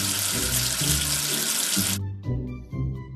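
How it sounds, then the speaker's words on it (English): Tap water runs steadily into a sink for about two seconds as something is washed, then cuts off, leaving a few soft splashes and drips; no talking. "Wash away the soap with water."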